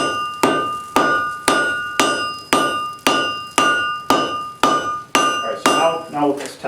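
Blacksmith hammering hot metal at a forge, about ten sharp ringing strikes at a steady rhythm, loud and close, with a brief scraping clatter at the end.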